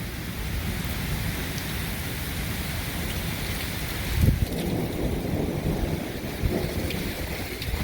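Heavy rain and gusting wind sweep through during a severe thunderstorm on Dauphin Island, Alabama, a dense steady roar with a brief louder gust midway, close and continuous, with no talk.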